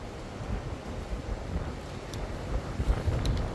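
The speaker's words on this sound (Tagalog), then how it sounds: "Lakas ng hangin." Strong wind buffets the microphone outdoors, a steady low rumble with gusts that swell louder toward the end, with no voices heard.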